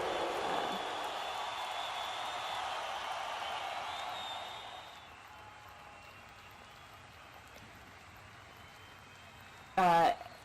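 A wrestling house-show crowd cheers and shouts loudly for a wrestler who is down in the ring. The noise fades to a quieter hum halfway through, and a commentator talks over it.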